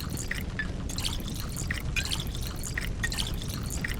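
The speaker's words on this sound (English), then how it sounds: "I like how the game freezes while it plays the water filling sound." Water pouring steadily into glass bottles while they are filled in the survival game Pathologic 2, a continuous splashing gurgle with repeated drip-like accents, moderately quiet and with no voices.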